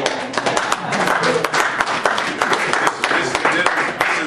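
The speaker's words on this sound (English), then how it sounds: "thank you for your applause." Audience applause at a church meeting with Republican delegates, brisk clapping from a crowd heard close and full, with a voice speaking partly over it.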